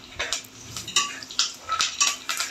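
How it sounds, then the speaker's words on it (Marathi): A spoon stirs a spice tempering with curry leaves in a metal pan, scraping the surface in quick, repeated strokes that clink lightly and close up, with no voices. "ही फोडणी मी थोडीशी ढवळून घेते आहे, परतून घेते आहे"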